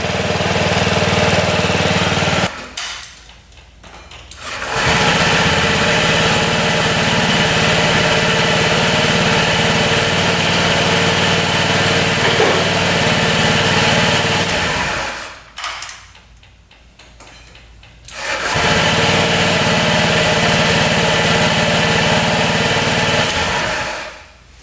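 A small scooter engine, once written off by its seller as unfixable, idles with a loud, steady buzzing putter, cutting out twice for a few seconds and firing right back up each time, close and alone.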